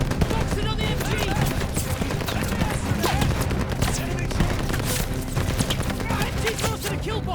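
Sustained machine-gun fire and scattered explosions in a Call of Duty Vanguard battle, a dense, loud barrage of rapid shots with booms, and voices shouting over the din.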